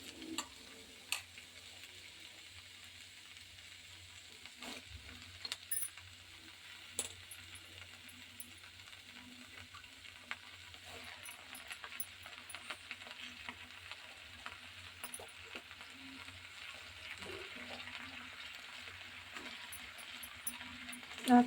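Soaked puffed rice (mandakki) frying in a pan while being stirred, giving a steady, faint sizzle with scattered light clicks and scrapes throughout, no voices.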